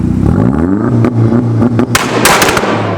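BMW E36 M3 and VW Golf 1.8T with a K04 turbo rev their engines side by side before a race, loud rising and falling revs, with sharp pops and crackles near the end.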